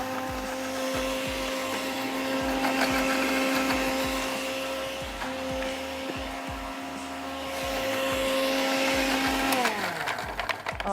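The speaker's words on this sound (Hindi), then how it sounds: "और इसको हमने कर लेना है अच्छा सा ब्लेंड।" An electric blender purees mantu dumpling filling with a steady high whine that holds constant, then winds down in pitch near the end as the motor stops, with rattling chunks knocking underneath.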